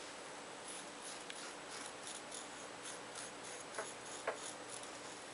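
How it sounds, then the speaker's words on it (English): A pen draws paw pad outlines on fabric for appliqué, a faint, steady scratchy rubbing under low room hiss, with a couple of small ticks. "And then draw your finger pads."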